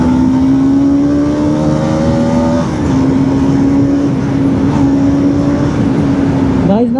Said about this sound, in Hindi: चलो मैं आपको इंजन ब्रेकिंग दिखाता हूँ।